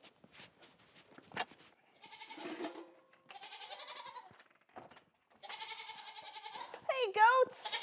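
Goats bleating on a Wisconsin farm in winter, several wavering calls in separate bursts from close by, with a person speaking at times.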